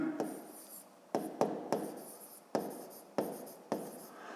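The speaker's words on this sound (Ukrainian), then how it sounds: "Записуємо тоді ділення." Pen or marker writing out a long-division problem by hand for a fifth-grade math exercise, heard as close, repeated scratchy strokes in short bursts with brief pauses between them and no talking.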